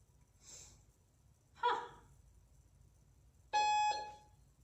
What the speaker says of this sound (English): Ignore the beep.